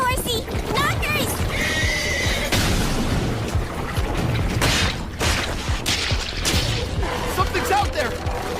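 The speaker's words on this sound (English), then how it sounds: "Was that a girl on horseback? Look there, horsey!" A horse neighs with a loud, shrill whinny, joined by clip-clopping hooves and other anime effects, while voices speak over the scene.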